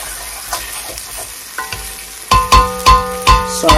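Meat and vegetables sizzling and sautéing in a hot pan, with a few sharp clatters of a utensil stirring and scraping, growing louder toward the end.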